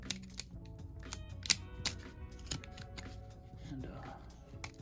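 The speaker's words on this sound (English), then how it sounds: "So we'll just go ahead and cut that tape." Packaging tape on a Star Wars Black Series Bastila Shan action figure box is cut, giving sharp scattered clicks and snips up close in an otherwise quiet room, with no talking.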